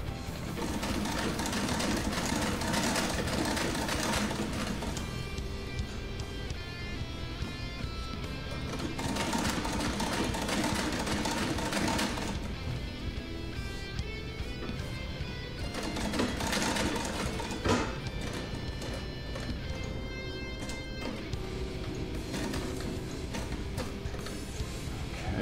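A 1910 sewing machine stitching a new pair of jeans produces a close, rhythmic mechanical clatter in several bursts with short pauses between runs, fairly loud and with no voices.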